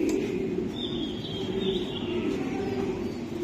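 Racing pigeons at a pigeon market, soft low cooing murmuring steadily under faint bird chirps in a busy background, moderately distant and quiet.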